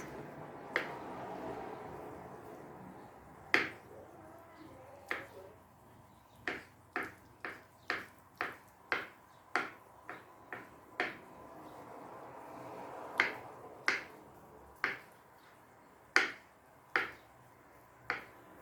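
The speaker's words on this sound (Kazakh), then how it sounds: "жұмыртқаны тураймыз" Knife slicing boiled eggs on a cutting board for a light salad, a series of sharp, quiet chopping taps in an irregular rhythm, close and alone with no talk.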